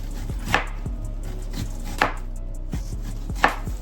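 A knife cuts thin slices of onion on a board in a home kitchen while making onion soup. Three sharp, close chops land about one and a half seconds apart over a low steady hum, with no talking.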